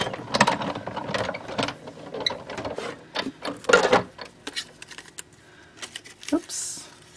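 A manual die cutting machine grinds and clicks close by as a greenery die is cranked through a scrap of green cardstock for a Christmas stocking card, an uneven mechanical ratcheting rattle with a voice talking over it.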